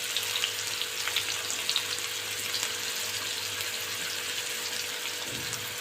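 Onion and green chili frying in a pan for veg soybean kheema, a steady, close sizzle that hisses continuously without any talk.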